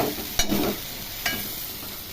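Diced potatoes for a brinjal and potato curry frying in hot oil, with a steady hiss and two short scraping strokes of a spoon through the pan.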